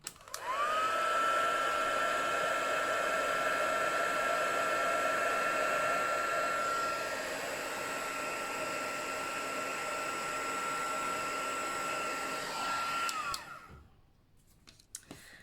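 A heat tool blows hot air to melt clear embossing powder on papercraft pieces, a loud, steady whirring hum lasting about thirteen seconds before switching off with a click.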